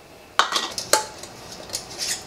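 Glass jar of sauerkraut set into a steam canner, giving a couple of sharp clinks of glass on metal followed by lighter rattles and taps, close by and brief.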